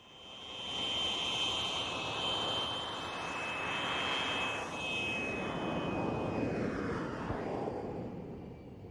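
A North American F-86 Sabre jet fighter flies past at an air show with a loud, sustained jet roar and a high whine, rising and then slowly fading as it goes by.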